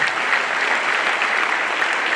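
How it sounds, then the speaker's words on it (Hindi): A ceremony audience honoring heroes of Uttarakhand claps loudly and steadily, a dense, even roar of many hands with no break. "थोड़ी और जोरदार तालियां होनी चाहिए।"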